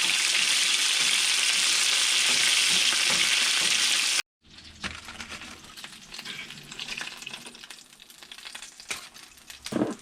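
Squirrel meat frying in a pan, a bright, steady sizzle for several seconds, then a quieter crackle with stirring and scraping sounds.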